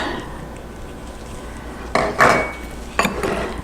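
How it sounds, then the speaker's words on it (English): A spoon scrapes and clinks against a bowl while shredded chicken is tossed with taco seasoning, in two short bursts of activity over a quiet kitchen background with no talking. "Mix it all in till everything is well coated."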